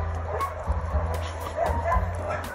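A shelter dog gives a few short, faint yips and barks, somewhat distant, over a steady background hum.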